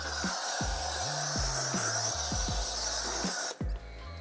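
Water repellent is sprayed onto and underneath a four-wheel-drive car, giving a steady close hiss for several seconds with low rhythmic thumps beneath it, then stopping sharply near the end.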